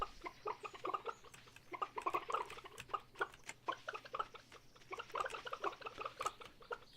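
Chickens in the Stardew Valley farming game cluck in a busy, overlapping flock, with many short clucks coming in quick irregular bursts at moderate, fairly close volume, with no talking.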